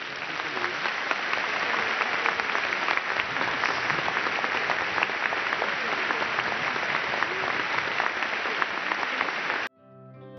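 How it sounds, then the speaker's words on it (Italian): Applause from a large crowd at a papal Mass held in a stadium, a broad, continuous wash of clapping lasting about nine seconds before cutting off abruptly. "E noi un applauso glielo facciamo da qua giù."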